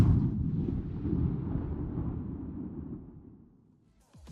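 A single far-off gunshot: a dull, low boom that rumbles and slowly fades over a few seconds, soft and distant, with no voices.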